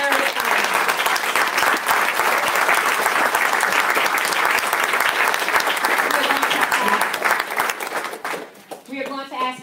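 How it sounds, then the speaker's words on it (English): Sustained applause from a large crowd at a school board meeting honoring National Merit students fills the room, loud and steady, tapering off as a voice begins speaking at the end. "giving a huge round of applause to our National Merit"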